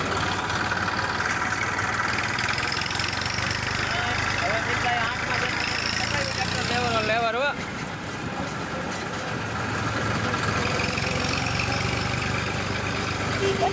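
A tractor engine idles steadily and loudly throughout, a continuous low mechanical rumble with people talking over it.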